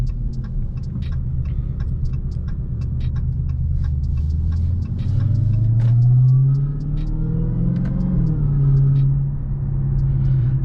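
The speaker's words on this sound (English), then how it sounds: "certain gears and certain RPMs make the supercharger scream just a little bit louder" A Dodge Hellcat's engine rumbles steadily while a thin supercharger whine rises and falls with the revs as the car accelerates through the gears.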